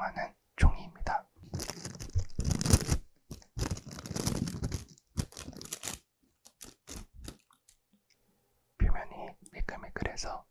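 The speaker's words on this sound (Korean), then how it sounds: "이 종이는 시약지라고 하는 종이에요." Smooth, slick reagent weighing paper used in a chemistry lab is handled close up, giving soft crinkles and rustles mixed with a few papery clicks while a voice whispers over much of it.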